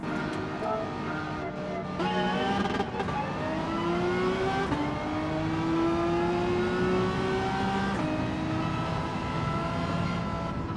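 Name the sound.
Renault Megane race car engine in video game Gran Turismo 7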